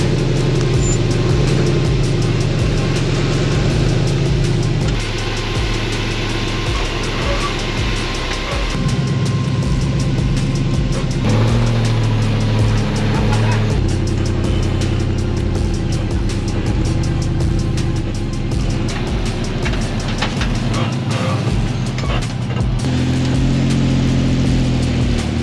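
An off-road vehicle engine labors up rocks on Coyote Trail at Cougar Buttes, California, with a loud, steady, low drone, revs rising and falling as the tires wiggle and grip, and no talking.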